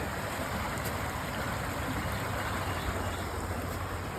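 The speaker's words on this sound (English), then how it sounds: "Little waterfall." A small waterfall in a creek pours with a steady, broadband rushing of water, continuous and fairly close throughout, with no voices over it.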